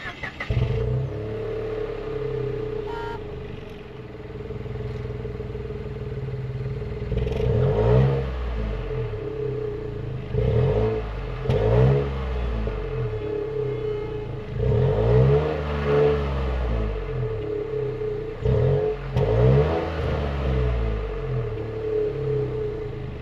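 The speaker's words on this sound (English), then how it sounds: "Let's take a listen to what this engine sounds like at the exhaust pipes. Should be a pretty interesting sound from this turbocharged 3-cylinder." A 2026 Nissan Rogue Rock Creek's turbocharged 3-cylinder engine, heard at the exhaust pipes, revs several times in repeated rising and falling bursts over a steady, throaty idle, close and fairly loud.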